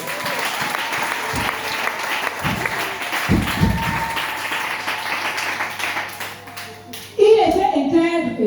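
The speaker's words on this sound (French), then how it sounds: "Est-ce qu'on peut acclamer le Seigneur?" A church congregation claps and applauds in praise, a steady dense wash of hands throughout with a few louder bursts, ending in a sudden swell of voices and cheering.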